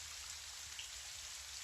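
Gentle rain falls in a steady, soft patter, a faint and even hiss of drops with no voices or other sounds over it.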